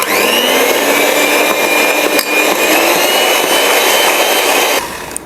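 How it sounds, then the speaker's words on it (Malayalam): An electric beater whirs loud and steady through yogurt cake batter with sugar, close up for about five seconds before cutting out and leaving a faint hum. "അപ്പോൾ അത് ഒന്ന് അലിയുന്നവരെ ഒന്ന് ബീറ്റ് ചെയ്തെടുക്കാം."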